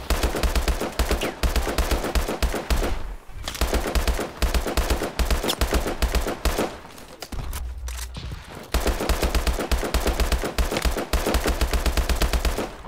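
Sustained rapid-fire shooting from a secondary weapon in Call of Duty: Advanced Warfare runs loud and steady almost throughout, with a brief lull partway through.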